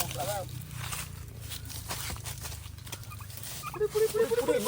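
Turkey gobbling and clucking as it is caught during a village turkey-fry cooking session, short bursts rising near the end over a low rumble and shouting voices.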